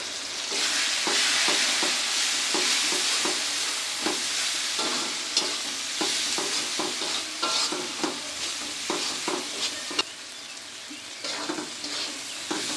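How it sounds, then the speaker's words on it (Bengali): Ground turmeric, coriander and chili powder fry in hot oil for a biget fish curry. A steady, loud sizzle runs under repeated scraping stirs close by, without talk. "আমার মশলা দেওয়া শেষ। এখনো ভালো করে কষিয়ে নিয়েছি।"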